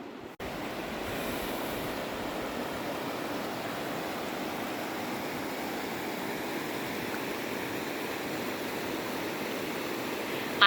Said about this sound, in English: I have to cross like all these rapids, or moving water, whatever you want to call it